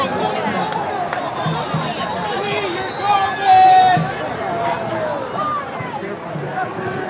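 Soccer stadium crowd at a USL playoff match between Charleston Battery and Richmond Kickers, a steady broad murmur of many voices that swells into a louder, upset roar for a moment before settling back to a constant hubbub.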